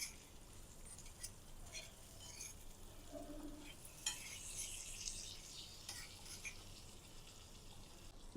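Ridge gourd masala fry with gram flour and curry leaves is stirred in a pan, giving a steady close sizzle broken by scraping and spatula clinks against the metal.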